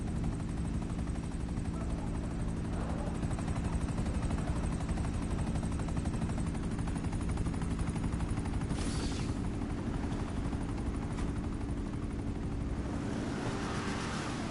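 A video game helicopter whirs in a steady, loud drone throughout, with a faint crackle of gunfire-like pops mid-way and a brief louder swell near the end; no talking.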